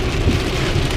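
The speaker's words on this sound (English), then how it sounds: "it's raining like this at the house" Heavy rain pours down outside a car, a dense, loud, continuous hiss and patter of drops drumming on the surfaces, heard alone.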